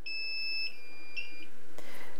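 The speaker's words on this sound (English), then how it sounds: "Notice after a minute that alarm shuts off" A series of sharp, high electronic beeps from a Flying Bear LaserMan laser cutter alarm sounds at close range, followed by a brief click and quiet hum.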